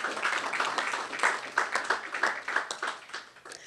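Audience at a new national hospital site visit breaking into applause, a moderate-sized group clapping in uneven bursts that pulse and fade, fairly distant and quiet, with no talk over it.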